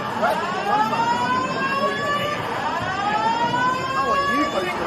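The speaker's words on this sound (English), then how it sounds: "The siren." An emergency siren plays back from a device, its wailing tone sweeping up and down in a steady repeating cycle at moderate loudness.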